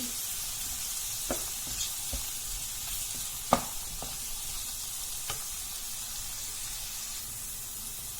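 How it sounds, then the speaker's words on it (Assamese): Chopped onions frying in a pan until they turn brown, a steady close sizzle with occasional sharp pops and spatter crackles over a continuous hiss, no talking. "পিঁয়াজখিনি ভাজি আছোঁ মই।"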